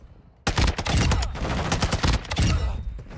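Rapid automatic fire from a TAQ V rifle in Modern Warfare 2, starting abruptly after a brief quiet moment and continuing as loud, dense bursts of close shots with a short pause near the end.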